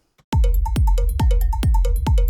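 Bright metallic bell and triangle hits from an unprocessed Ableton stock drum rack ring out in a steady repeating pattern, each strike sustaining with a shimmering decay, loud and close with no other sounds.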